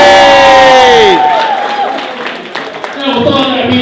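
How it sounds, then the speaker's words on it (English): Crowd at an independent pro wrestling show cheers and applauds, loud and close, while an announcer's voice and a few shouts overlap at the start and the noise tapers before rising again. "So stand up and give yourself a big round of applause for him on the ground."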